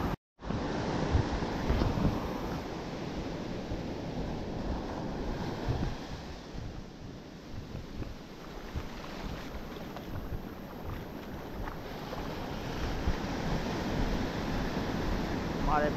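Rough sea on a fishing trip far offshore, a steady wash of waves and wind noise buffeting the microphone from aboard a fishing boat, continuous and loud throughout.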